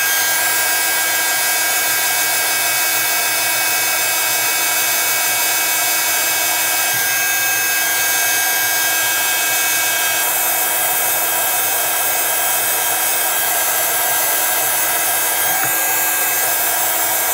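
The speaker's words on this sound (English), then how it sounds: "I'm going to give these a quick blast just to dry them." A heat tool blows hot air to dry freshly embossed paper in a letterpress-style craft technique, a loud continuous whirring blast held steady from start to finish.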